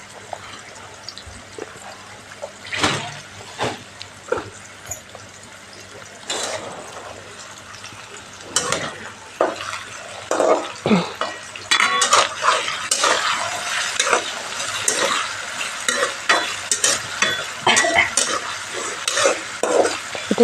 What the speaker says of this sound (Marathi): मी बारीक काप केलेत त्याचे आणि काप करून धुवून तुपात टाकलेत. तर थोडं वेळ परतून देत होते.